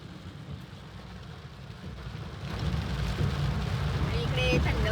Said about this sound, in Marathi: आणि पाऊस खूप जास्त आहे, खूप जास्त पाऊस आहे.